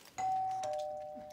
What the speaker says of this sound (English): the doorbell went again